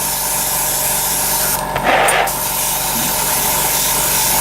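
A short, close hiss of spray paint lays fine coats on a scale model over a constant loud background hum, lasting under a second.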